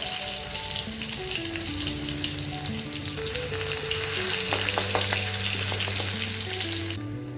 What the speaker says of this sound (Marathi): थोडंसं लसूण पण असं चेचून घेतलेलं आहे लसूण पण टाकून घेते